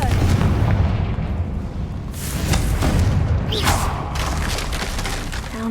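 A Confringo explosion spell goes off in Hogwarts Legacy as a loud, dense rumbling blast that sustains for several seconds with crackling debris on top.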